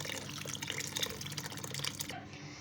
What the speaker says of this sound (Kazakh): мен су қойып жатырмын